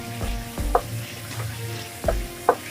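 Shrimp stir-fried with onion in a hot pan, with a loud close sizzle and quick bursts of scraping and stirring from the spatula, several distinct strokes and no talking.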